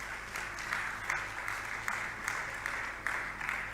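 Audience applause at a Jain religious Q&A gathering, a steady wash of many hands clapping with periodic louder surges, moderately distant and continuous throughout.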